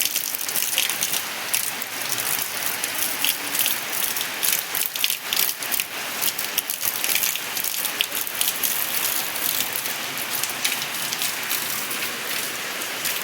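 Heavy rain pours steadily in a dense, loud hiss that never lets up, with a constant wash of drops hitting surfaces close by.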